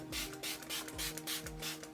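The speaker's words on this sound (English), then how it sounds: "I think this is just like a setting spray that gives a nice glow and you can use it throughout the day." Several short bursts of glow setting spray misted onto skin at close range, each a soft airy hiss with brief pauses between, no talking.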